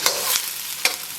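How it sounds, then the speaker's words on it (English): Onions browning in a pan, a close steady sizzle broken by a couple of quick stirring scrapes. "So while I brown the onions here"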